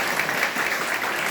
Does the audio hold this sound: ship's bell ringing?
no